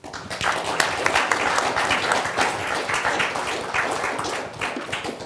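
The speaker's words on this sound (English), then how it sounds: "let's give the panel a big round of applause." A large audience applauds a panel at an event at the Beckman Institute, dense sustained clapping that stays loud and even throughout, with no voices on top.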